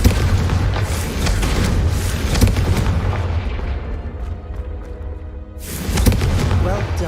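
A Confringo spell explodes in the video game Hogwarts Legacy with a deep booming blast that rolls and fades over several seconds. A second loud burst follows near the end, and a character speaks over the noise.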